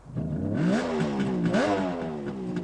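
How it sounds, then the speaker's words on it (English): A 500cc two-stroke three-cylinder Kawasaki motorcycle engine revs up and down twice in quick succession, its buzzing pitch climbing and falling, loud and close with no talking. "the main features of the bike is a 500cc 2-stroke 3-cylinder engine"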